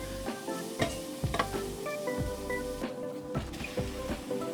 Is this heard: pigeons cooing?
no